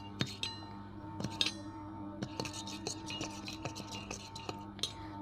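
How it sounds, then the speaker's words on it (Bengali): A spoon stirs honey into a homemade night cream in a small bowl, giving light repeated clinks and taps against the container over a faint background hum. "এটা ভালোভাবে নেড়ে নিতে হবে"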